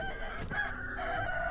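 Chickens in Sekiro, the video game, set in Mibu Village, cluck and crow loudly and close by, with a brief harsh squawk near the start and continuous calling throughout the short stretch.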